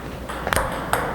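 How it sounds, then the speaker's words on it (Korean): A table tennis ball is struck during a penhold-grip serve, giving two or three short, crisp pings against a faint background hiss. "이 회전을 주면 제가 또 어깨랑 팔꿈치 위로 올리면서 공의 뒷면을 완벽하게 쳐주죠."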